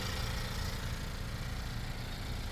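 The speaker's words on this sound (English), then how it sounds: "So very, very powerful inline four turbocharged engine." Turbocharged inline-four engine of a Hyundai Genesis all-wheel-drive sports sedan idling steadily with a low, continuous hum and broadband whoosh, close and unbroken throughout.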